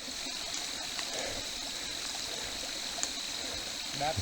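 A creek beside a forest trail in Mark Twain National Forest keeps up a steady, close trickling flow in the rain, with a faint voice underneath.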